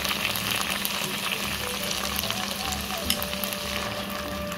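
Tomato paste stir-fries steadily in a pan, a dense continuous sizzle with soft scraping of stirring throughout, close and alone with no voices.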